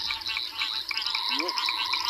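A banded rubber frog gives a short high-pitched call from within a dense night chorus of frogs and insects, partly masked by the steady background calling.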